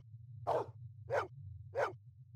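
A dog in the Blade Runner video game barks three times at a steady, evenly spaced pace, each bark short and clear over a constant low electronic hum.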